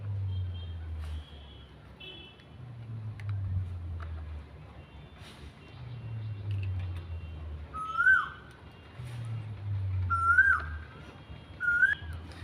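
Outdoor cuckoo calls come as three separate whistled notes a couple of seconds apart, moderately clear over a low rumbling background hum with no talk.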